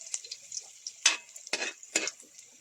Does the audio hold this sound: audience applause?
no